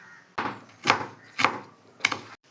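Onion being chopped into small pieces on a board: four distinct knife thuds land at a steady, unhurried rhythm, close and fairly loud, with no voices.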